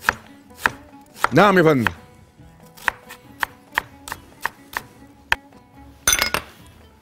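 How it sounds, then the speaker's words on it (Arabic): A knife finely dices onion on a cutting board for dried molokhia, with steady single chops interrupted by two quick rapid-fire bursts. The chopping is close and crisp, and a voice briefly answers once. "بيجيبوا البصل برنواز كده"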